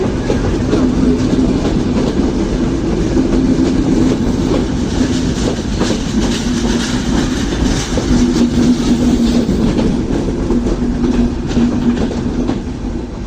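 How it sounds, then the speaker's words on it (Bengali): Train cars passing a station platform with continuous loud rumble and rhythmic clickety-clack of wheels over rail joints, steady throughout with no talk. "এই যেগুলো দেখছেন এইগুলো ট্রেনের এসি কেবিন।"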